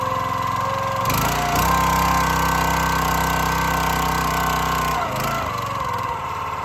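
A County Line 25-ton log splitter's small gas engine runs steadily and loud up close, its throttle advanced, with brief sharper bursts near the start and again around the five-second mark.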